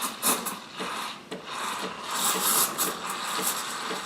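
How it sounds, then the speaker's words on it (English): A steady, airy hiss with a rough, fluttering texture from a Sage Barista Express SES875 espresso machine steam wand frothing milk, close by and fairly loud throughout. "we're stretching the milk and giving it that nice micro foam"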